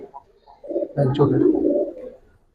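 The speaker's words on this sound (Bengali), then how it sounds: "খুব সুন্দর কবুতর ফুল সার্কেল" Giribaz pigeons give a short, soft throaty coo close by, low and rolling for about a second, with murmured voices nearby.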